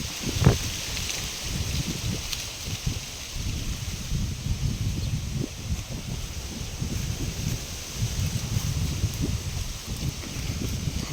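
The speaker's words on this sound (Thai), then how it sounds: "ลมแรงครับลมแรงมาก" Strong wind blows through a durian orchard, a steady rushing roar with leaves rustling and low gusty rumbles of wind buffeting the microphone, all close and continuous.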